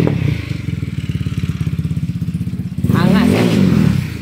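Small motorcycle with an aftermarket exhaust revving during a sound check, a rapid pulsing engine note that jumps to a louder, higher rev near the end, with a voice talking over it.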